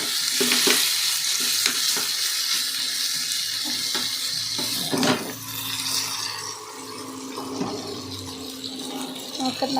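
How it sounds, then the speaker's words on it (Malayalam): Food is stirred and scraped around a pan over a steady, loud sizzle, with a few sharp clinks of the utensil. "ഇതിങ്ങനെ ഇളക്കി കൊടുക്കുക"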